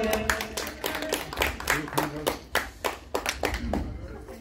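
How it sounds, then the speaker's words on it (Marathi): A small group claps together at a birthday gathering of classmates, a quick run of sharp, close hand claps that keeps an uneven rhythm for several seconds. "सर्वांनी टाळ्या वाजवायच्या."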